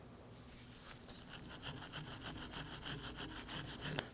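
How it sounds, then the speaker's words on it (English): A wire brush scrubs the surfaces of a rear brake caliper bracket on a 2013-2015 Subaru XV Crosstrek, a steady run of quick, rasping back-and-forth strokes, close and moderately loud, with no talk. "clean up these surfaces with a wire brush"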